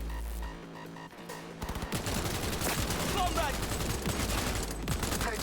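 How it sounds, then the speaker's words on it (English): Gunfire in the video game Cyberpunk 2077: Phantom Liberty, loud, dense bursts of rapid shots and clattering impacts that start after a quieter opening and keep up steadily through to the end. "Heard shots."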